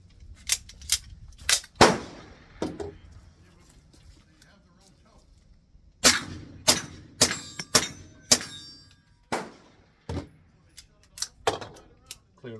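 Suppressed gunshots from a Kuna and a Stribog carbine come as sharp, loud reports, first in a quick cluster and then in a longer run of evenly spaced shots, with quiet gaps and some talk between them.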